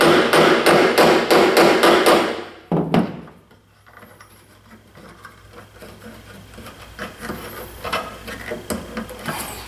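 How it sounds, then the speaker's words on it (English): A hammer taps a bolt into place in a quick series of sharp, loud metallic taps, close by, followed by a quieter stretch of faint knocks and handling noise. "I'm going to get a hammer and tap that baby home."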